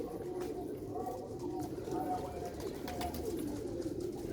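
Iranian-breed pigeons coo softly in repeated low, throaty phrases on a rooftop loft, fairly close, over steady outdoor background noise.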